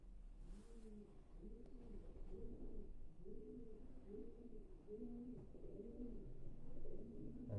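A racing pigeon coos in a steady run of soft, repeated low throaty calls, close by, with a faint engine hum in the background.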